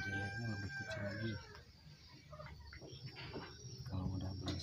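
A small serama rooster crows briefly, then quieter clucking follows against a faint background hum.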